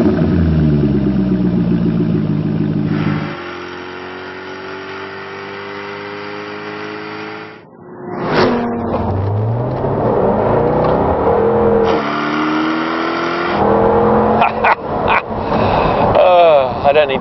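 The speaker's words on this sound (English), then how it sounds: "This supercharged Jaguar V8 engine is one of the world's all-time great motors." A supercharged Jaguar V8 in an F-TYPE prototype on a test drive, loud engine drone rising and falling through gear changes, with a rev surge partway through and steady cabin roar.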